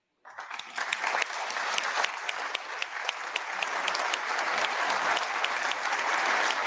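A crowd in the chamber breaks into applause during a 2021 state of the state address, starting abruptly and building into sustained, even clapping that grows slightly louder toward the end.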